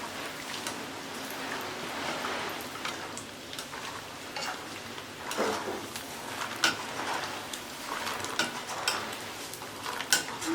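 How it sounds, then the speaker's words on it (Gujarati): Peanuts sizzle in hot oil for a Gujarati corn-poha chevdo snack, with a steady soft crackle like light rain and occasional scraping clinks of a spoon stirring against the pan. "તો મગફળીના જે દાણા છે એને આપણે તેલમાં તળી લઈએ"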